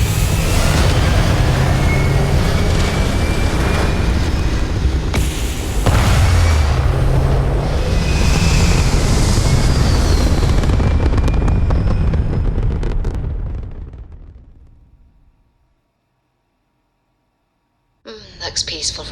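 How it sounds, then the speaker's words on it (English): Spaceship thrusters firing on take-off in the video game Starfield: a loud, sustained broadband roar with rumbling bursts that fades out to silence after about fifteen seconds, followed by a brief renewed surge near the end. "All thrusters firing."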